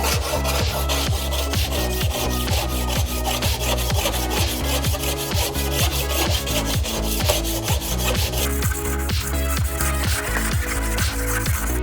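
Brushed 304 stainless steel sheet, 16 gauge, is deburred along its edges in quick, even rasping strokes, a close, steady scraping rhythm of roughly two passes per second.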